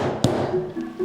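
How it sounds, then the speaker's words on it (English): A French rolling pin beats biscuit dough with a single sharp, close thump, then quieter room tone with a faint tap. This is Maryland-style biscuit dough being worked until it blisters. "Beating dough with a French rolling pin."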